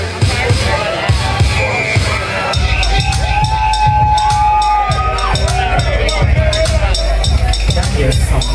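A crowd at a wet boxer contest cheers and whoops loudly and continuously, with shouting voices and babble throughout.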